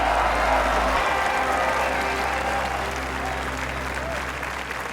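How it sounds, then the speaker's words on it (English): Sustained applause and light cheering from the gallery after a birdie in a golf video game, a dense steady wash of clapping that slowly thins, with faint speech beneath. "Thank you for all the cheering crowd."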